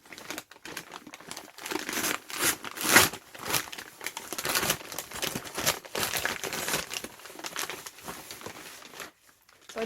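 Crinkly plastic and paper rustling in uneven bursts, close by, as packaging is handled and torn open, with short pauses between bouts.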